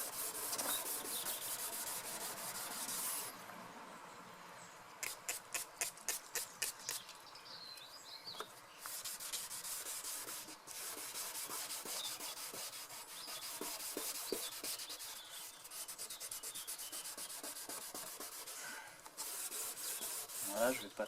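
A yellowed polycarbonate headlight on a Peugeot 206 is hand-sanded with a renovation kit. Steady rubbing strokes continue throughout, with a quick run of crisp, rhythmic passes partway through.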